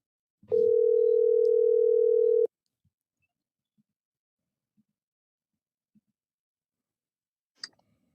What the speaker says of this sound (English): I'm calling you right now, sir. I see you want to contribute, so calling your phone, Uncle Patrick.